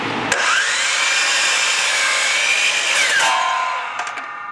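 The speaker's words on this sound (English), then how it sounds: "all we're doing is just cutting a nice sharp point on the end of some scrap lumber like that" A power saw bites into scrap lumber to cut a sharp point, its loud, steady whine running for about three seconds before dropping in pitch as the blade spins down, followed by light knocks of wood.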